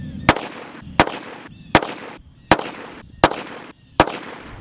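Six sharp, loud gunshots from a Colt Lawman revolver firing .38 Special rounds, spaced roughly three-quarters of a second apart, each a crisp crack with a short decay, close by and with no talking.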